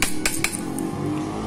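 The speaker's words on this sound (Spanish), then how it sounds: "Le vamos a dar unos pequeños golpes del lado de atrás." Light metallic taps sound as a gear is knocked into place in an Italika FT 150 motorcycle engine: three quick, close raps in the first half second, followed by a brief faint tick and steady background noise.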